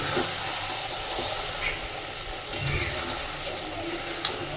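Lote fish curry, a thick spicy gravy drying down in a wok, gives off a low steady sizzle and hiss with faint scraping of the stirring spoon, close and alone.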